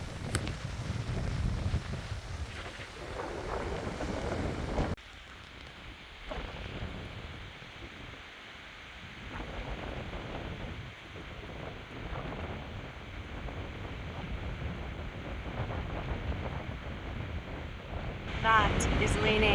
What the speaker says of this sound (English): We've never seen wind like this at Bird Island.